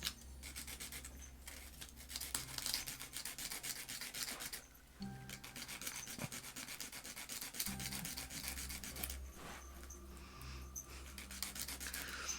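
A wooden lace bobbin is scraped by hand: continuous, close, fine rasping strokes for several seconds, with a brief pause in the middle and a low background hum.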